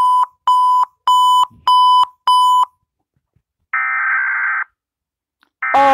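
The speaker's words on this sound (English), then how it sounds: "emergency alert system alarm from different countries" An emergency alert system alarm sounds loudly with five sharp, evenly spaced electronic beeps, then a longer sustained buzzing tone after a pause, and a final harsh tone starting at the end.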